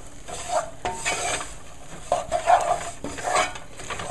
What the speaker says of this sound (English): just continue stirring with the wooden spoon until the butter is melted